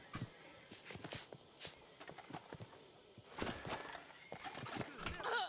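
Hooves of a horse galloping in the Red Dead Online video game, with quick clip-clop beats and an occasional whinny, heard moderately close while someone talks throughout.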